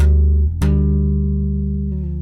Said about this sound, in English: I just touched that harmonic G, and it gives it sort of a suspension sound.